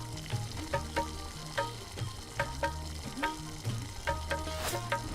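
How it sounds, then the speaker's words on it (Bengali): Dried jujube pickle cooks down in thick jaggery syrup with spices, a steady bubbling sizzle broken by a regular series of sharp stirring scrapes and clicks against the pan, loud and close, with no voices. "সিরাপ ঘন হওয়া পর্যন্ত এটি 10 মিনিটের জন্য রান্না হতে দিন।"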